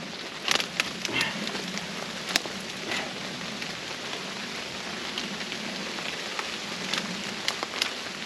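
Rainwater dripping down from trees in a wet forest after rain, an irregular patter of close drops and scattered sharper taps over a soft steady hiss, with no talk.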